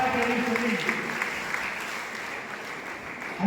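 Sustained audience applause fills a Tamil debate-stage event hall, a dense, steady clatter of many hands clapping that holds at an even level throughout, with faint voices underneath.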